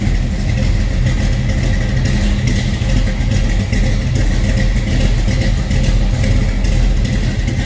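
A 1956 Chevrolet Bel Air Nomad with a 4-speed manual idles after warming up, a deep, steady low rumble with a loud throaty exhaust tone, close and continuous without talk.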